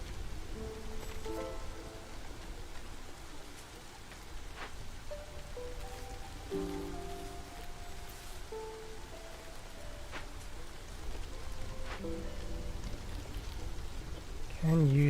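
Steady drizzle pattering down in the video game Against the Storm, a soft continuous hiss of rain with faint musical tones and a voice talking over it.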